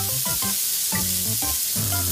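Papait, goat bile, is added to a sautéing pan for goat stew and brings a steady, loud sizzle. Intermittent scraping strokes from stirring sound over it, with no talking.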